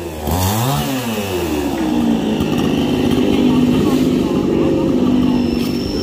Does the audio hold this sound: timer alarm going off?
no